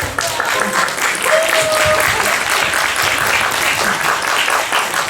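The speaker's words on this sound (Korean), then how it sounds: "잠깐 일어나서 박수 한번" A cinema audience at a film screening and director Q&A applauds, a sustained, full wash of clapping from many hands at steady volume, with a voice briefly audible near the start.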